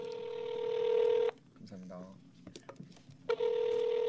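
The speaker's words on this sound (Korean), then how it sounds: "한번 그럼 전화 한번 해 보겠습니다." A telephone makes steady electronic dialing tones, first a long held tone, then a pause with soft talking and small clicks, then the tone again.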